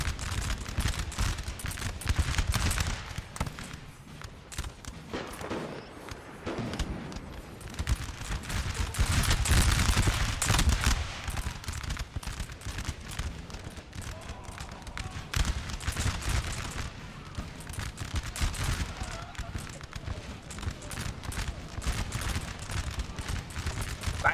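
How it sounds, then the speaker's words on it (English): Ragged musket volleys crackle across a Napoleonic battlefield in Napoleon: Total War, dense bursts of gunfire rolling on and off over distant rumble, with some faint voices now and then. "They haven't done anything but fire a couple volleys each"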